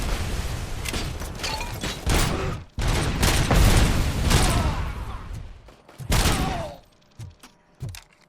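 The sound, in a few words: grenade shot and exploding in video game Robocop: Rogue City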